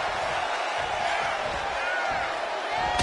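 A video-game arena crowd at a WWE 2K25 wrestling match roars in a steady wash of cheering and noise, fairly loud and unbroken throughout.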